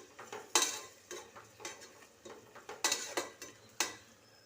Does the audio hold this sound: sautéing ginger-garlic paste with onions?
yes